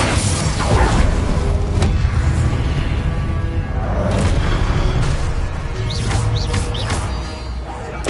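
Spell blasts and crashes ring out in Hogwarts Legacy combat. Loud booms and bursts follow one another densely across the whole stretch, with voices mixed in.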